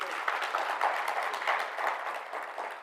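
Conference audience at a stakeholders meeting in Namibia claps in a light, fairly distant ripple of scattered hand claps, steady but soft for a few seconds.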